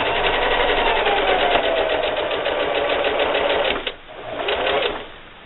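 A sewing machine stitching a drawstring backpack runs in a steady rapid whir, stops briefly, then starts again for a short burst before fading.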